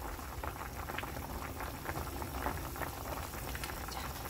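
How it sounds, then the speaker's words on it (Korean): Beef and radish soup bubbles at a steady, rolling boil in a pot, with a continuous close, moderate popping and burbling and no voices. "자, 바글바글 고기가 끓고 나면 무 썰어 놓은 것을 넣어주세요."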